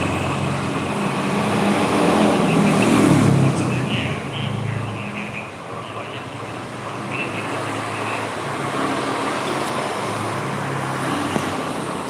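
A motorcycle engine drones beside a road, mixed with steady passing traffic noise. The rumble is loudest early and stays continuous throughout, while a person talks over it.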